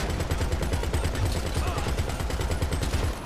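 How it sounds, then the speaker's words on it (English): Rapid automatic gunfire in the GTA 5 Online video game, a dense steady stream of shots running throughout at moderate loudness with no talk over it. "We just have to shoot people here with a..."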